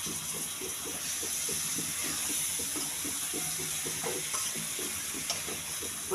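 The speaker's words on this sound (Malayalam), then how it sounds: "ചിക്കൻ കഷ്ണങ്ങളെല്ലാം കൂടി ഇട്ട് അതൊന്ന് ഇളക്കി മറിക്കട്ടെ കേട്ടോ." Chicken pieces fry and get turned over in a cooking pan, a continuous soft sizzle with a rhythmic series of light scraping stirs beneath it, fairly quiet and close, with no speech.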